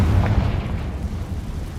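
A fiery Confringo blast spell in the Hogwarts Legacy video game lands as a heavy, low boom at the start, then rumbles and fades over the following second and a half.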